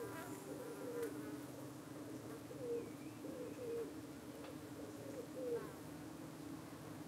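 Honey bees buzzing at a UK hive entrance, with parasitic flies (Senotainia tricuspis) swarming and landing on them; a steady close insect drone with repeated brief higher whining passes, while a pigeon coos faintly in the background.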